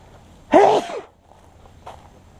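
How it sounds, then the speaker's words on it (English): A single loud sneeze bursts out close up outdoors in a swamp, followed by a faint second breathy sound a moment later. "Even out here, I still sneeze."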